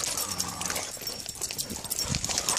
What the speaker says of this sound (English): Crazy puppy runs.